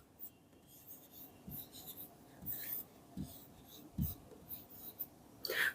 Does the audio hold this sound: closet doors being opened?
no